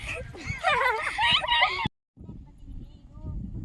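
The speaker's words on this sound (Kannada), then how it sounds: "ನನ್ ಕನಕ ನಾಯಿ." A village dog yips and whimpers in a burst of high, wavering cries lasting under two seconds, with background noise around it; after a short gap, only quieter ambient sound remains.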